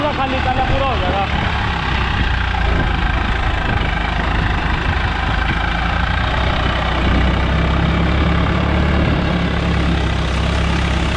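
Swaraj 744 FE tractor engine running while cultivating a field, a continuous loud mid-to-low engine drone with steady throbbing, heard close up as someone speaks over it.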